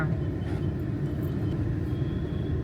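A car's engine rumbles at low speed close by as it is brought in to park, a steady low drone with no talking.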